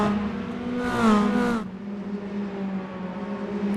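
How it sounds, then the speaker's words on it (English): Mini stock race cars in the iRacing sim racing game at Southern National, a steady buzzing engine drone with one car revving up and passing, rising and falling in pitch, no talk. "I love hearing these cars. There's just something about the angry lawnmower sounds."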